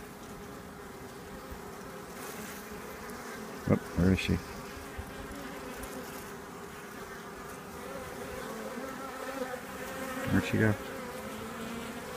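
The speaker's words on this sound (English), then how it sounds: "we're gonna see what kind of a reaction we get from the bees" Honey bees from an opened hive being requeened in Vermont buzz in a steady, close drone throughout, with brief louder bursts of activity; a person talks softly over the buzzing.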